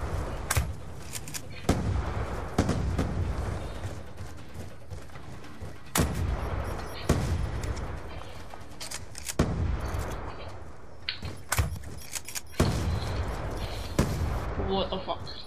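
Repeated crossbow shots from the Black Ops 2 video game, sharp impacts at irregular intervals over a dense game soundtrack, with gunfire-like bursts throughout and some talk mixed in.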